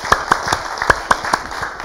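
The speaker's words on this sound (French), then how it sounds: "On va applaudir encore Sana Bob" A handful of separate hand claps ring out at an uneven pace, sparse and fairly close, as if only a few people in the audience are clapping.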